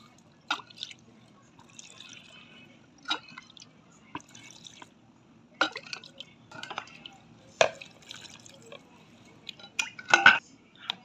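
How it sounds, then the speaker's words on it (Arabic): Mixed pickles are packed into sterilized glass jars, making intermittent close clinks, wet drips and rattles in separate bursts spaced a few seconds apart over a quiet background. "كده نعبي بقى المخلل كده. البرطمانات طبعا غسلينها ومعقمينها بميه دافيه"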